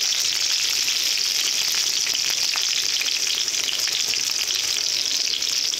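Cauliflower florets frying in oil, a dense, loud, steady hiss of sizzling close up without pauses or voices.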